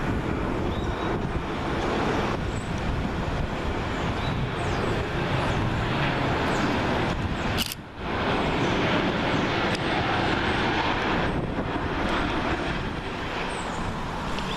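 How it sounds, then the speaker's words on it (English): Jet2 Holidays Boeing 737-8KN arriving at Manchester Airport on runway 23R, a loud continuous broadband roar of the landing jet that holds steady throughout, with one brief dip midway. "Next we have Jet2 Holidays Boeing 737-8KN, registration Golf Delta Romeo Tango Kilo, working flight LS170, that's come from Ibiza."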